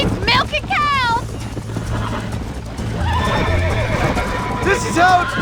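A horse whinnies loudly in rising and falling bursts in Red Dead Redemption, then neighs again later amid hoofbeats and background game sounds, with voices talking over it.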